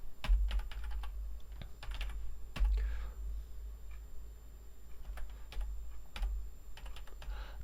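Scattered keystrokes on a computer keyboard while commands are entered to set up a Docker container on a Synology NAS: sharp, irregular clicks over a steady low hum, quiet and close, with no speech.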